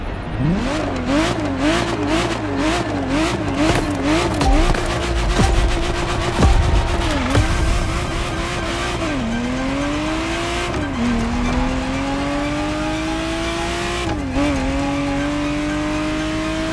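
In The Crew Motorfest, a Ferrari Testarossa's engine revs loudly and repeatedly, its pitch climbing and dropping through gear changes, with tire squeal and clattering impacts partway through before a long sustained pull.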